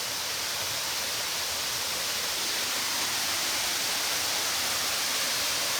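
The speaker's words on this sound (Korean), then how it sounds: "가르드마우 폭포다. 이 폭포는 높이가 약 30m로 팔라우에서는 가장 크다." A steady, roaring rush of falling water fills the scene, dense and constant without pause, heard from close by at Gardmau Waterfall in Palau, about 30 m high.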